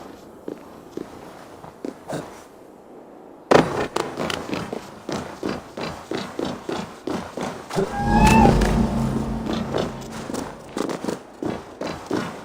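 A cat meows a few times in Assassin's Creed Valhalla, the calls mixed with brisk footsteps and rustling, plus a louder stretch of movement midway through.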